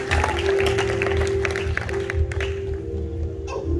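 A church congregation applauds and cheers for the Lord, steady clapping from a crowd in an indoor hall, with a sustained electronic tone and murmured voices underneath.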